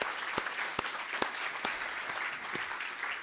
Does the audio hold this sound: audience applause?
yes